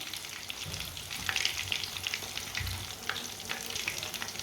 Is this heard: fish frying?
yes